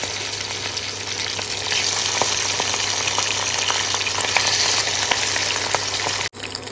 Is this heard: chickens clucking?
no